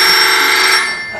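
Telephone ringing on stage during a theatre play, a loud steady electronic ring that holds for about a second and then fades slightly, with no voices over it.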